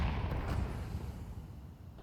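A grenade blast in an esports match goes off outdoors as a broad, muffled boom whose low rumble lingers and slowly fades over about two seconds.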